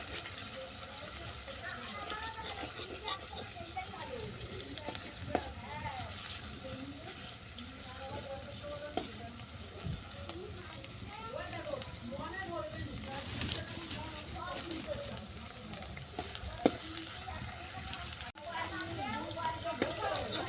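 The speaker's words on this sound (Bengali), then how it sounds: "ডিমটাকে ভালো করে ভেজে নিচ্ছি" An egg fries with onion and vegetables in a pan, giving a steady hissing, watery sizzle with occasional stirring knocks, continuous throughout while a person talks over it.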